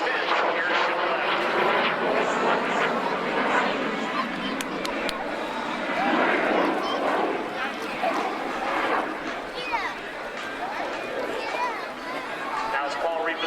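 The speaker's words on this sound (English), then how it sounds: "showing you a nice crisp roll rate of the F-86 Sabre" A North American F-86 Sabre jet fighter roars past overhead at an air show with a loud, sustained engine rush while rolling. An announcer talks over it throughout.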